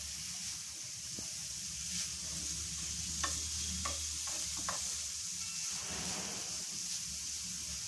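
Grated carrot is sautéed in a pan with a soft, continuous sizzle and a few light scraping stirs, heard close and fairly quiet with no talking.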